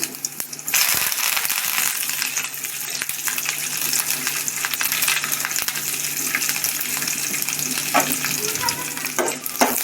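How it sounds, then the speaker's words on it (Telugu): Loud, steady sizzling and crackling of green chilies frying in hot oil for tempering, with scattered sharp pops and stirring clatter throughout. "పచ్చిమిరపకాయలు తాలింపులు వేసుకున్నామండి"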